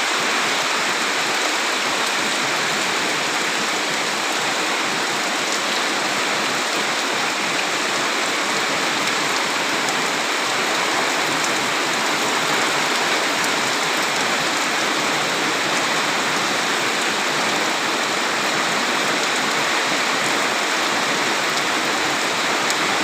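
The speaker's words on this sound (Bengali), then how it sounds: "বৃষ্টি প্রচুর বৃষ্টি হইতেছে" Heavy rain falls in a steady, dense roar. The loud, even hiss carries on without a break for the whole stretch, and no voices are heard.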